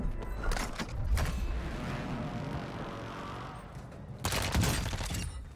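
Video game gunfire during a landing drop, with bursts of rapid shots at the start and again near the end around a steady roar of wind or engine noise. No one speaks.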